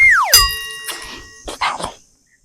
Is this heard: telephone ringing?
no